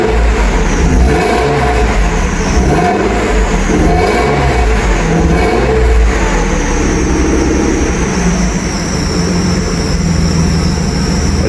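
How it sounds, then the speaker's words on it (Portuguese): A Mercedes SL600 V12 with a modified exhaust runs loud and close, its deep continuous engine roar steady throughout with slight swells in revs. "Olha o que é esse carro trabalhando, velho."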